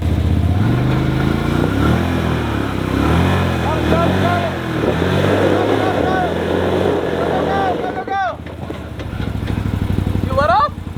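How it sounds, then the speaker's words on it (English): A Can-Am Defender UTV drives off-road, its engine revving loud and close with rising and falling pitch as the throttle works, then easing off near the end while voices talk over it. "the first time that he's ever driven this Can-Am Defender. Let's watch him go."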